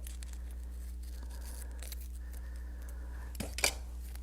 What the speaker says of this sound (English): let's get some straight scissors, and we're just going to cut right down the middle